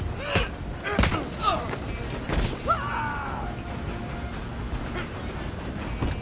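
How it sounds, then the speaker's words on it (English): A train in Red Dead Redemption 2 rumbles along the rails with several heavy clanks and thuds, a brief shout cutting in, then a steadier rolling drone. "I'm gonna ride ahead and stop the train."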